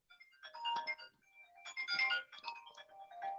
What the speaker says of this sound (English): Just gonna let telemarketer just keep ringing.